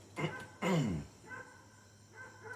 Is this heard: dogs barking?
yes